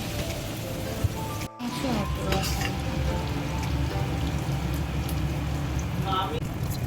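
Mola fish and katla fish fry in oil in a kadai, giving a steady, dense sizzle and crackle that runs the whole time with a brief dropout early on.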